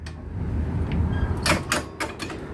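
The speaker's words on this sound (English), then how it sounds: "The side door." The sliding side door of a 2005 Ford E350 wheelchair van opens with a few sharp latch clicks and metallic clunks over a low engine rumble. The sounds are close and come in quick succession.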